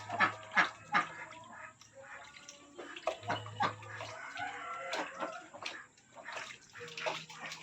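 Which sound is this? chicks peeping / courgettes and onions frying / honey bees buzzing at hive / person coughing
chicks peeping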